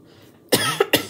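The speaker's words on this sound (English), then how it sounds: "I don't know why I'm coughing." Three sharp coughs close up: one harsh burst followed by two shorter ones in quick succession, after a moment of quiet.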